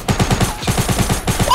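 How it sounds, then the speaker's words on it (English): Rapid automatic gunfire in a video game, a steady rhythmic burst of shots repeating about every tenth of a second, loud and close, with a brief break midway. "They're shooting the thing under me! They're shooting the ground!"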